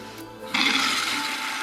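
Water rushes into a toilet tank through a newly installed universal fill valve after the supply is turned back on, a steady hissing flow that starts abruptly and continues alone.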